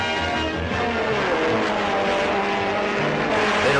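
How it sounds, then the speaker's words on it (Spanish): Vintage Formula One racing cars roar off the start line together, a dense, loud, continuous engine blare that fills the whole stretch without a break. "Toman la salida y se pone en cabeza el escocés Jackie Stewart"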